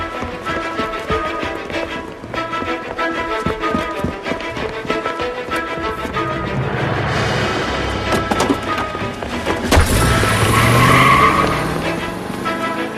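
A car chase in the 1940s Los Angeles crime game LA Noire, with engines revving, tires squealing and skidding over a music bed, building to a loud crash-like impact near the end.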